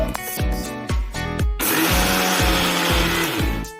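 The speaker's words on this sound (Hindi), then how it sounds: "ये मिक्सी में ये हमने हल्के ग्राइंड कर लिए दरदरे।" A loud electric kitchen mixer grinder whirs in short repeated bursts that spin up and wind down while coarsely grinding, then runs steadily with a coarse rattling texture.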